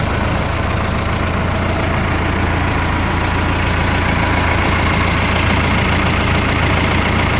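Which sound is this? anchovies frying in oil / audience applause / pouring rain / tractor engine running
tractor engine running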